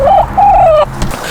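A Welsumer chicken close by gives two drawn-out, wavering vocal calls, each with a rising and falling tone, followed by a short thump and quieter background sound.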